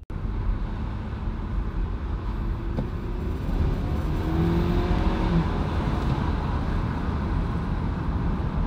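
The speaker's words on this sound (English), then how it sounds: "Trying to get some sound out of this car," A 2019 Audi A4 engine running steadily and fairly loud, a continuous low rumble that swells slightly midway as if revved, with no talk.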